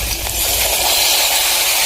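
Water poured into a pan of hot oil with fried spices for a stuffed potato curry, giving a loud, steady broadband hiss that holds throughout without a break.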